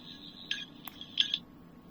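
Quiet electronic warbles and chirps from a toy sonic screwdriver, a few short high-pitched bursts over a low steady hum, with no talking.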